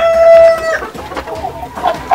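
Chickens at a local poultry farm in Baglung, Nepal, cluck and call in short, repeated bursts, close and fairly loud, with no talking.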